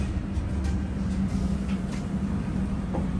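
Steady low rumble and rattle inside a moving train carriage, with continuous rolling noise and a few faint clicks and knocks, no talk.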